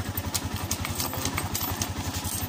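A Honda Sniper 150 motorcycle fitted with a remote alarm idles near at hand, its engine putting out an even, rapid pulse with steady background noise.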